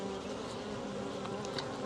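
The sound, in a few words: honey bees buzzing around a beekeeper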